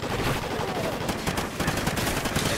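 Rapid automatic gunfire bursts from the Call of Duty Ghosts video game, dense and loud throughout, crackling shots layered over constant game noise.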